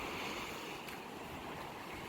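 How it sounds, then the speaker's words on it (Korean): Ocean surf washing onto the shore at Gangneung, a steady broad wash of waves with a faint airy hiss throughout, heard alone and at a moderate distance. "아, 파도 소리 진짜 좋다."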